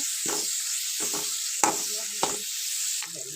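Sliced onions frying in a pan for a hotel-style aloo kurma, a steady hiss of sizzling broken by several short bursts of stirring and scraping, close and fairly loud.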